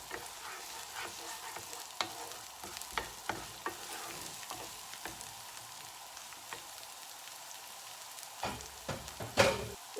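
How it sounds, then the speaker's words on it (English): Onions fry in a pan with a soft, steady sizzle while a utensil stirs them, giving scattered close clacks and scrapes against the pan and a louder scrape near the end. "we're going to put our onions in first. And give that a nice little mix."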